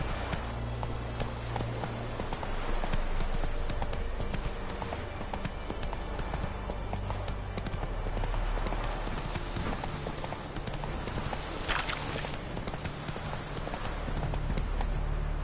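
Roach the horse galloping in The Witcher 3, a continuous rapid clip-clop of hooves running close and loud, with a brief rushing swell partway through and no talking.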